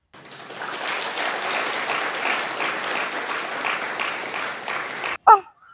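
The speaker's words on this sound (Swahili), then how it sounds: "makofi kwa mama" A crowd applauds in a dense, sustained burst of clapping lasting about five seconds, then it cuts off abruptly and a brief, louder sound follows.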